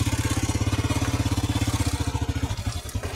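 A heavily loaded motorcycle hauling a big pile of scrap strains with a steady, deep, rhythmic engine pulse close by, loud and labored throughout, easing slightly near the end.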